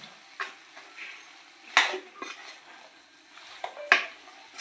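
Deep-fried chicken pieces being stirred into masala gravy in a pan, with intermittent scrapes and two sharp metallic clinks of a spoon against the vessel, close and fairly quiet, no talking.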